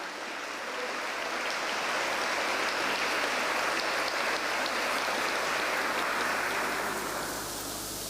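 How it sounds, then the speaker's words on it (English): Sustained, loud applause fills a town hall at a diversity awards ceremony, a dense wash of clapping from a large audience that swells in, holds steady and tapers slightly at the end, with no talking over it. "So can we have a round of applause"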